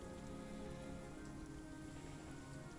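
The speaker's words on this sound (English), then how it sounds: "you guys go out into the rainy weather." Steady rain falls on surfaces, a continuous even patter with no talk, close and unbroken throughout.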